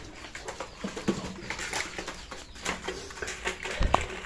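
Pigeons cooing on a farm, soft repeated low coos with light rustling and a few brief bird sounds throughout, fairly close and moderately loud.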